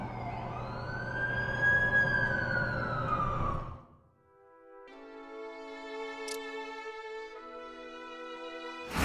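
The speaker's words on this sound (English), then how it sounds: "That's the ambulance I called." A wailing ambulance siren in the Marvel's Spider-Man video game rises and falls loudly for about four seconds, then gives way to a layered electronic tone with no talk over it.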